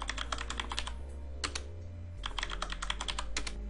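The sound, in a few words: typing a MySQL root password on a computer keyboard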